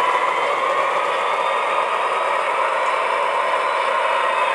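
Model train locomotive engine running with a steady, even droning hum, close and continuous without clear rise or fall.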